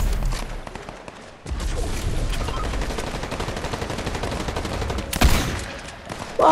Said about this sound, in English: Oh, I see gunfire up ahead.